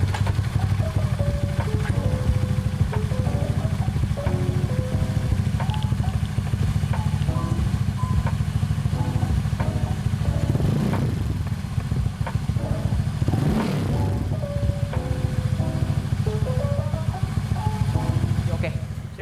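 A 2015 Honda Vario 110 scooter fitted with an aftermarket exhaust runs steadily with a low, continuous engine drone and some clatter, close by, while people talk over it throughout.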